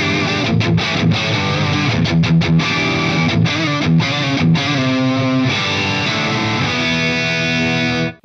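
Electric guitar, a Stratocaster, played through a heavy distorted amp preset on an Axe-Fx AX8, chunky chords and sustained notes ringing loudly and continuously, with a few brief palm-muted stops.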